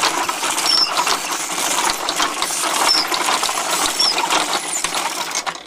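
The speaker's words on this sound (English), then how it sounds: "The only thing is you get tired of turning the crank." A hand crank drives the four gears of a homemade wooden machine, giving a continuous close clattering, ratcheting churn with a soft, uneven rhythm and occasional faint squeaks.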